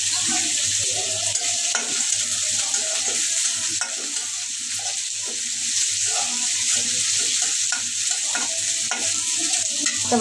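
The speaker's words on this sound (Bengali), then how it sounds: "এবার একটু পেঁয়াজ ভাজে নিই" Onions frying in a pan, steady close sizzling with repeated stirring scrapes and light clatter of the utensil, a low hum beneath and faint voices at moments.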